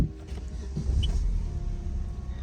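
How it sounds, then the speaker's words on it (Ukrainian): A car with a check-engine fault and no engine-speed reading is started, giving a steady low mechanical rumble with a brief higher chirp partway through, close by and with no talk. "Тобто зараз ми заводимо автомобільчик."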